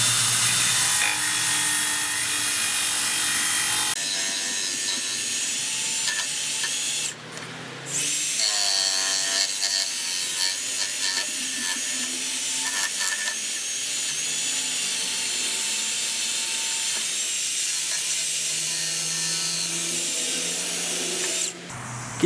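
Makita 18V cordless belt sander (XSB01 / DBS180) running a 60 grit belt flat out, a loud continuous abrasive whine and motor roar with shifts in pitch and brief dips as it bears down on the work.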